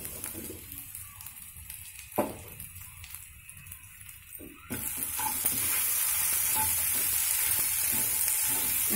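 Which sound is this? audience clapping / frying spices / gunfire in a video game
frying spices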